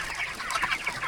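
Young black broiler chickens on a Filipino poultry farm, kept alongside ducks, cluck in short overlapping bursts close by, a busy chatter of several birds with no talk.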